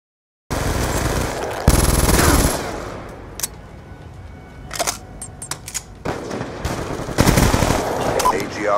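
Sentry gun fire in a video game: a loud sustained automatic burst followed by scattered sharp shots and rattling bursts, with game effects around them and no speech.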